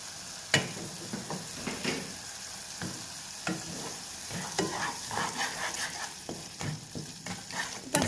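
A spoon stirs pizza sauce with chili powder and tomato ketchup in a pan. Scrapes and clinks come at an irregular pace over a low, steady sizzle, close and alone with no talking.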